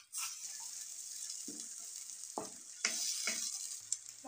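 Spice paste with chili powder and turmeric frying in hot oil, a steady close sizzle broken by several scraping stirs and soft clicks.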